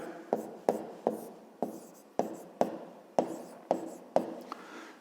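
Pen writing out a fifth-grade maths solution on paper, a series of about nine crisp strokes and taps at a steady rhythm, close and alone with no talk.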